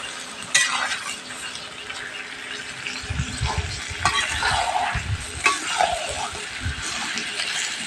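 Duck meat bhuna being stirred in a pan, a steady sizzle of frying under repeated scraping and clinks of a utensil against the metal, close and fairly quiet with faint voice in the background.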